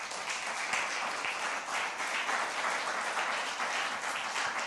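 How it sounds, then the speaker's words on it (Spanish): A church congregation applauds continuously, a dense, even wash of clapping from many hands that holds steady at moderate volume throughout without pause. "Denle un aplauso"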